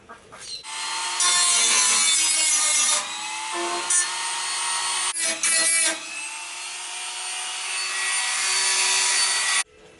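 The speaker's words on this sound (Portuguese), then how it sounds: "depois de brigar um pouco com a lixadeira ali, eu consegui soltar a solda" An angle grinder or sander grinds off weld points on a 1983 Volkswagen Kombi, a loud sustained metallic whine in long bursts with brief pauses, close up.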